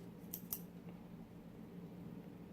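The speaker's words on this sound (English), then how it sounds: "Take out the old scissors, you know, give her a little snip." Scissors snip the end of a cigar, two quick sharp crisp cuts close to the mic over a faint low hum, with no talking.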